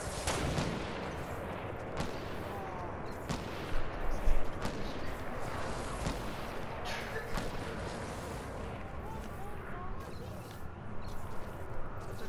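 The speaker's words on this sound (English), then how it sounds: "Someone has a semi-auto sniper that's shooting to our right, up on the mountain" Sharp repeated gunshots from a semi-automatic sniper rifle firing from a mountain in Fortnite, distant and irregular, cracking over a busy bed of game noise without talk.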